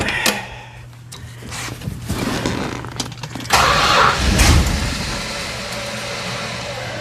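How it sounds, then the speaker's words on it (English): A 1966 Chrysler New Yorker 440 engine cranks for a few seconds with a whirring Chrysler starter motor, then catches and fires up into a louder, rough running burst. "There's the sound of a Chrysler starter."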